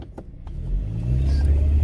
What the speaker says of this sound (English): Maybe come to a stop and give it some gas.